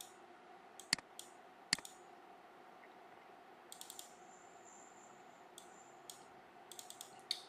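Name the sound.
typing on a computer keyboard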